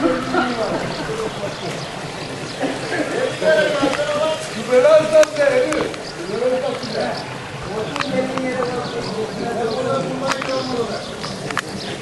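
Heavy rain falling outdoors where an artesian well has flooded the area, a dense, steady hiss and patter of water throughout, with people talking and calling out over it.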